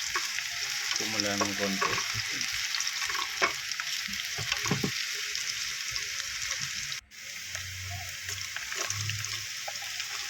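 Bitter gourd dish frying in a pan, a steady sizzle with scraping stir strokes throughout and a brief voice speaking over it.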